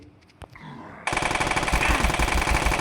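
Rapid sustained automatic gunfire from a fifty-round weapon in a shooting video game, loud and continuous after a brief quieter lead-in with a few clicks.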